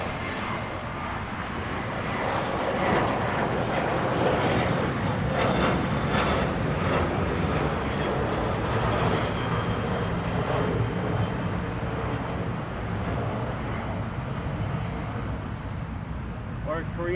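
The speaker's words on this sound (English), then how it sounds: "Also, here's the Korean 747." A Korean Air Boeing 747 jet at LAX near the Tom Bradley terminal gates, producing a steady loud engine roar that persists throughout, with a voice talking over it.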